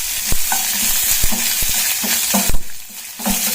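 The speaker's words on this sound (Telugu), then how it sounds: "కొన్ని శనగపప్పు, కొంచెం జీలకర్ర, కొన్ని ధనియాలు, తర్వాత కొన్ని అల్లం ముక్కలు, కొన్ని వెల్లుల్లి దెబ్బలు, ఇవి రెండు కొంచెం మెత్తబడేంత వరకు వేయించుకోవాలి" Chana dal, cumin, coriander seeds, ginger pieces and crushed garlic frying in oil, a loud close sizzle broken by repeated sharp spatula knocks and scrapes against the pan, with no talk.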